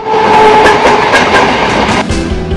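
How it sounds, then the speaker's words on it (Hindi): Indian Railways train runs close by, loud and sustained, with steady engine drone, tonal hum and rhythmic wheel clatter that shifts to heavier low rumbling near the end. "भारतीय रेल के इंजन के इस शोर को अंतर्राष्ट्रीय मानक जितना कम करने की कोशिश तेज होगी।"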